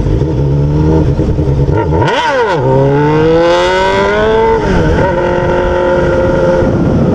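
Honda Hornet motorcycle with an open exhaust, loud and close, blipping the throttle in sharp rising revs and settling into a rough, throaty idle between pulls; a voice briefly speaks over it.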